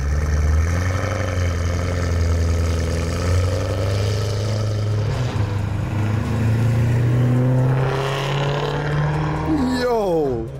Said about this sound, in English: Yo, what is that, a Mustang?